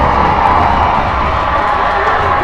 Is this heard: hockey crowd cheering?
yes